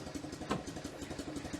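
An Invacar invalid carriage engine idles with a steady, rapid chugging pulse, heard faint and close with no talk over it.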